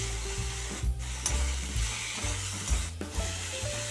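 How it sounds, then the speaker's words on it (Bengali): Grated coconut stir-fried in prawn curry masala in a pan, Bengali style: a continuous close sizzle with scraping stirs throughout. "নারকেলটা দিয়ে খুব ভালো করে নাড়াচাড়া করতে হবে।"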